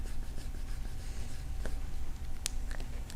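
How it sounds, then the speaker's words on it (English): A glue stick is rubbed onto a small piece of paper card in short, soft scraping strokes, close up and faint against a quiet room hum. "Put a little glue stick on there."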